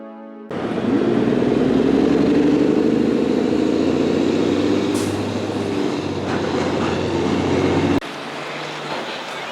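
Heavy street traffic passing near a bus maintenance facility, a loud continuous rumble of vehicles with rising and falling engine drone for about eight seconds before cutting to a quieter background.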